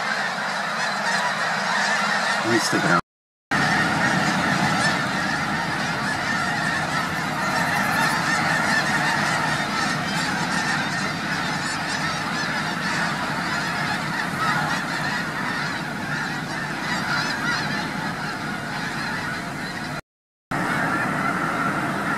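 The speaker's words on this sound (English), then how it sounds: "We're looking at a few thousand snow geese right now." Thousands of snow geese honk together at Anahuac National Wildlife Refuge, a dense, continuous clamor of overlapping calls that fills the air without pause, broken only by two brief cuts.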